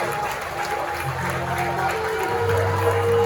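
Steady applause from a crowd at a school graduation ceremony, a continuous wash of clapping that holds at an even level throughout, with a faint hum underneath.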